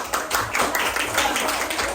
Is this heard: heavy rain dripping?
no